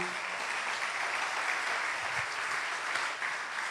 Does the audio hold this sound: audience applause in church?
yes